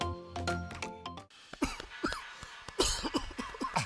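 An adult man coughs several times in short, sharp bursts, close and fairly quiet, preceded by a moment of faint music.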